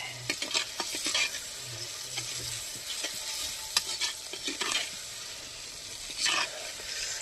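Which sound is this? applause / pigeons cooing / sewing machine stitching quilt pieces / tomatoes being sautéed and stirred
tomatoes being sautéed and stirred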